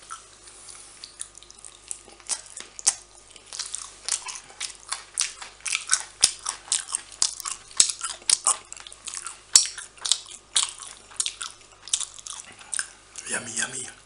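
Close, wet biting and chewing of avocado and salmon sushi rolls, with dense rhythmic smacking and squelching bursts throughout, and a brief murmur of voice at the very end.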